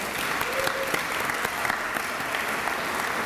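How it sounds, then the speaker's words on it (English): Applause at a county leadership prayer breakfast, steady clapping from a large gathering with a few sharper individual claps standing out, sustained throughout. "So give them a huge round of applause"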